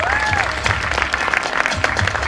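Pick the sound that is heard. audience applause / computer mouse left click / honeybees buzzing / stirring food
audience applause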